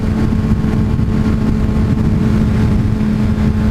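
A Kawasaki ZX6R motorcycle engine running during a night ride after maintenance, a loud, steady drone with a continuous engine hum and no break.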